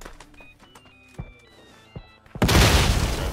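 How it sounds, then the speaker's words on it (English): A sticky bomb in a video game goes off with a sudden loud burst of noise after a couple of quiet thumps and whirring mechanical tones, the blast roaring on to the end. "sticky bomb."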